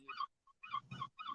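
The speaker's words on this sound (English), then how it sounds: "The seagulls are saying good morning." Seagulls calling by the sea in the morning, a series of short, nasal honking cries in quick bursts with a pause between, faint and at some distance, with no talk.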